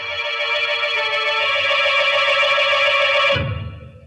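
Telephone ringing as an old-time radio drama sound effect: a sustained, bright electric bell that rings steadily for a few seconds, then cuts off abruptly into a low rumble.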